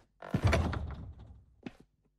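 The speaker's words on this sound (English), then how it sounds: "Do you mind if I shut the door?" An indoor door is pushed shut with a long, dull rumbling slide followed by a short, soft thunk as it closes, then quiet.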